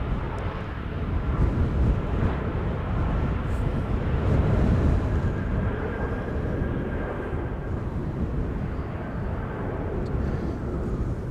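A Corendon A350 airliner taxis at Amsterdam Schiphol on a windy day, giving a steady, broad engine roar with a faint high whine that holds for the whole stretch, without any voices.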